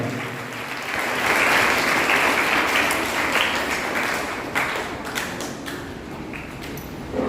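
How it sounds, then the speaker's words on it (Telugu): During a charismatic prayer service and Holy Mass at RCM Church in Proddatur, a large congregation claps loudly in a thick, continuous roar of applause that swells early and holds strong before tapering slightly. "గట్టిగా చప్పట్లు కొట్టి దేవుడు గట్టిగా చప్పట్లు కొట్టారు."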